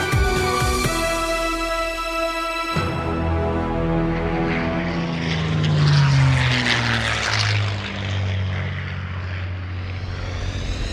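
Tu-2S twin-engine propeller bomber in the video game War Thunder, a steady loud engine drone with a dipping and rising pitch as the aircraft manoeuvres, heard alone without voices.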